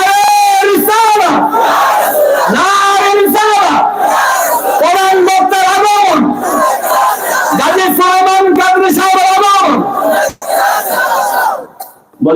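A large crowd at an Islamic sermon (waz mahfil) in Koshaiyam, Cumilla shouts the takbir response in loud, repeated unison bursts, a sustained roar of voices that swells and breaks off several times before dropping away near the end.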